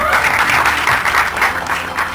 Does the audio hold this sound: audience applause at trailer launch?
yes